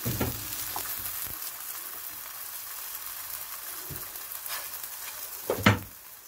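Malwi dough frying in oil in a pan, a quiet continuous sizzle with a few soft pops and bursts, heard up close with no voices.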